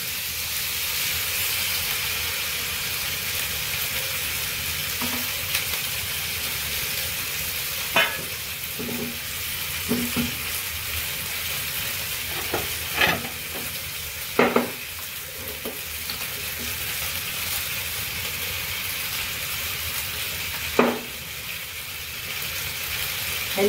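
Fish fries in hot oil with a steady background sizzle and hiss, broken now and then by sharp scraping and clinking as the pieces are stirred or turned, close and moderately loud.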